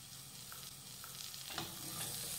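Finely chopped medium onion frying in a pan for a potato curry, a steady soft sizzle with faint stirring clicks, no voices.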